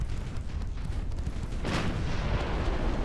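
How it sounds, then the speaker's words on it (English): Battleship guns fire in Ultimate Admiral: Dreadnoughts, a steady low rumble of distant naval artillery with a sharper blast swelling around the middle, continuous booming under the battle. "the Knyaz Suvorov are still firing on the other light cruiser, which gives Ladislaus a chance to fire"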